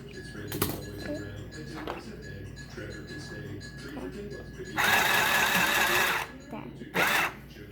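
A sewing machine re-stitches over a seam on tote bag fabric, giving two loud bursts of fast whirring stitching, the first longer, with a voice talking quietly beforehand.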